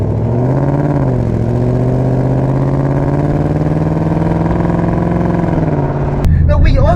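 A Ford Mustang GT Premium V8 with an active exhaust system idles and builds revs in a deep, steady rumble that swells slightly before a sharp change near the end, loud and close.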